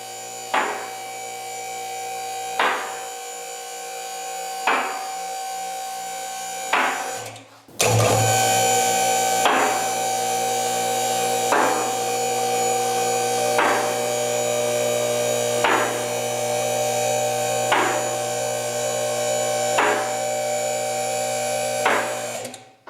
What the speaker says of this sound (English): So those loud clacks are the locking stops.